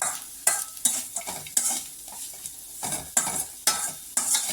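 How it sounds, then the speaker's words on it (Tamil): Coconut rice being stirred and turned in a hot pan, with rhythmic repeated scrapes of the spoon against the pan, roughly two per second, over a soft continuous sizzle, close by and without talking. "நல்லா இப்படி வணக்கி விட்டுக்கிட்டே இருக்கலாம்"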